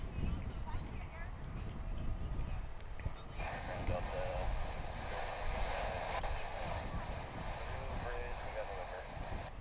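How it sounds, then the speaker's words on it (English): An American Airlines Boeing Dreamliner jet taxiing at DFW International Airport, a steady distant engine roar and rumble throughout, with someone talking over it. "That would be a Dreamliner there on its way back to the American hangar on this side of the airport."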